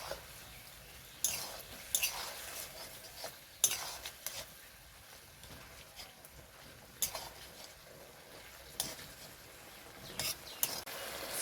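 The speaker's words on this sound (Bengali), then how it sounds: "পুরো চিকেনটাই আমি ঢেলে দেবো। ভালো করে নাড়াচাড়া করে মিক্স করে নেব।" Chili chicken being stirred in a pan: intermittent metal-on-pan scrapes and clinks come in uneven bursts over a faint background sizzle, close and moderately quiet, with no voices.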